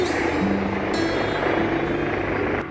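A helicopter flies past near Finningley airport, its steady rotor throb and engine whine loud and close for the whole stretch, with a few brief sharp knocks on top.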